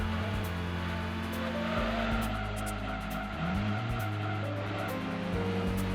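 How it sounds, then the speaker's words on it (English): A stock 1990 Mazda RX-7 with 217 horsepower racing in the video game Gran Turismo 2, its engine revving and shifting through gears with tire squeal and skidding, continuous and fairly quiet. "We're driving, by the way, an RX-7, a Mazda RX-7,"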